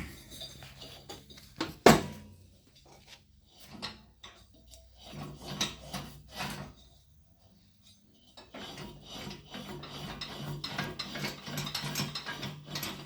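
The auger on a 1985 MTD snowblower being turned over during repair gives quiet, uneven mechanical clicking, ratcheting and gear whirring in short bursts, with one sharp knock early on.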